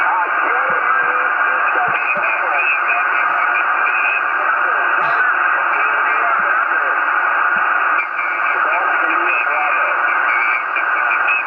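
Amateur radio transmission from a station in Spain, received over a vertical whip antenna near power lines: a steady, band-limited voice with a constant hiss and hum, continuous throughout.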